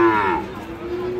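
A Friesian cross bull calf at a cattle market gives one short, close, loud moo that fades out over about a second.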